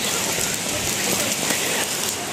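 Steady, dense rain pours down in the Cameron Highlands, a loud even hiss throughout with no voices.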